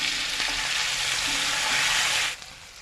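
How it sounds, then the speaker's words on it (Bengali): Paneer pieces frying in oil in a wok: a steady, loud hiss of sizzling runs throughout, then drops off sharply near the end, with no talk. "এখন পনিরগুলি ভেজে ফেলব।"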